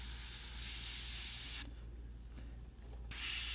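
An airbrush sprays paint onto a hat in a steady soft hiss, then drops almost to silence for about a second and a half before the hiss resumes.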